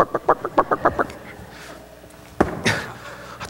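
Farm fowl, chickens, cluck and squawk in a quick burst of about eight rhythmic calls, fairly close, followed by a quieter pause and a couple of louder squawks.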